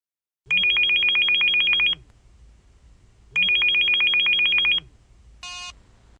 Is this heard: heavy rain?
no